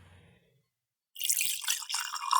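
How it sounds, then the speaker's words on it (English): Whiskey poured close to a microphone: about a second of near silence, then a steady, bright splashing pour of liquid that runs to the end. "I'm gonna record the pour here in front of the microphone"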